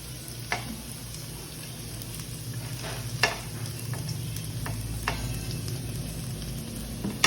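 Cabbage goes into a pan of stir-frying carrots and chayote, and a steady, close sizzle follows, with occasional sharp clicks and scrapes from the stirring utensil.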